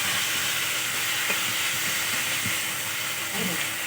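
Masala spices fry in oil for a village-style chhana curry, producing a loud, continuous close sizzle and hiss with occasional soft stirring knocks.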